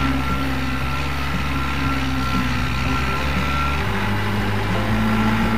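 A Case 580G backhoe loader reverses with its shuttle transmission, a steady engine drone underneath a repeating series of backup beeps, loud and close throughout.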